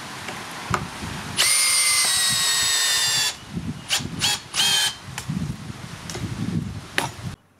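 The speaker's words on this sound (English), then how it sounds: "this one has a lot more grunt than this one, but this is still a very powerful little drill" A Makita 40V cordless drill whines loudly at high speed for a couple of seconds, then gives several short bursts with pauses of clunking and handling noise between.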